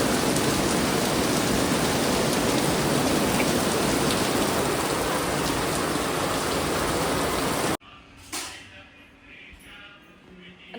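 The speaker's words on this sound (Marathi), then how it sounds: "बेकार पाऊस आला" Heavy rain pours in a dense, loud, steady roar that stops abruptly and gives way to quieter, scattered background sounds.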